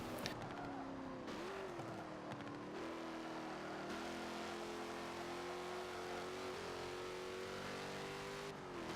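A Ram truck engine in Forza Motorsport 7 revs and drones steadily, its pitch rising and settling through shifts, loud and close throughout with no talking.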